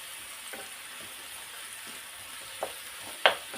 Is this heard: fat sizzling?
yes